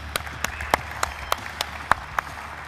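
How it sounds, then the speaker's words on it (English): Sparse applause from a small group at a baseball coaches' convention: about eight distinct, evenly spaced claps ringing out fairly faintly over a quiet room, with no talk. "Give him a round of applause."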